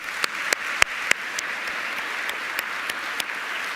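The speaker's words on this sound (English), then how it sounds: "So another big round of applause for Saul and Tim." An audience claps at the end of a panel discussion at a Nobel Prize Dialogue event in Sydney. The applause is soft and steady, with scattered sharper claps standing out, heard at moderate distance with no speech.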